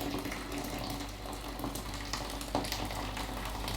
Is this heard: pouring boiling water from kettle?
yes